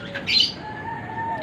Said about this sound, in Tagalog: Ito na yung aking alagang kulasisi na si Pugi.